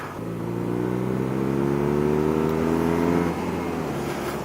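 2017 BMW R nineT Racer motorcycle engine revving, a close, loud rising engine note that climbs steadily for about three seconds, then drops back to a lower rumble, with no voices.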